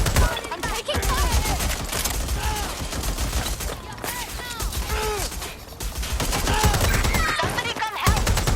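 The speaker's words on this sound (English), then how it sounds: "I'm taking fire!" Dense, continuous automatic gunfire in Watch Dogs Legion, rapid overlapping shots and ricochets forming a loud close-range firefight with voices shouting amid the barrage.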